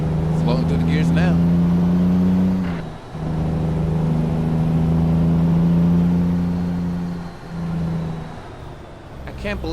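A Kenworth T2000 truck engine in American Truck Simulator drones loud and steady, dipping briefly at each gear change before climbing again, with a voice talking over parts of it.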